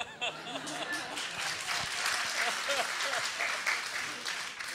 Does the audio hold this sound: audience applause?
yes